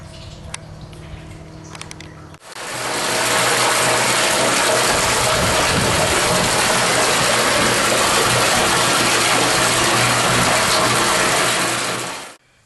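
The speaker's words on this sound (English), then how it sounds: "I'm going to run the majority of my water inside from a hose inside this pump tank" Water runs from a hose into a septic pump tank of a mound system, a steady, loud broadband rush that starts abruptly after a few seconds of quiet mechanical hum and continues unbroken before cutting off near the end.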